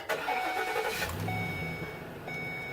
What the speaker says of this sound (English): When I go to fire it up